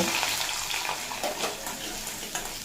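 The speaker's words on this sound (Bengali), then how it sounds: "আদা কাঁচা লঙ্কা দিয়ে অল্প নাড়াচাড়া করে নেব" Ginger and green chillies stirred and frying in a pan, a steady broadband sizzle with soft scraping stir strokes throughout, close and moderately loud with no voices.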